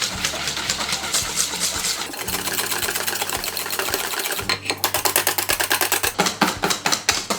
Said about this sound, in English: to this I'm going to add a couple of tablespoons of caster sugar, and then just whisk it a little